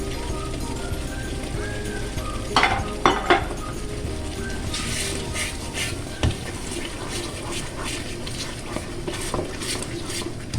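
Kalonji and mustard seeds crackle in hot oil for Hyderabadi mirchi ka salan, a continuous close sizzle punctuated by metallic clinks and scrapes of a spoon against the pan.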